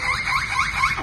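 A parrot imitates a car alarm: a short burst of repeated rising-and-falling electronic-style whoops, four quick cycles in about a second, moderately loud and close.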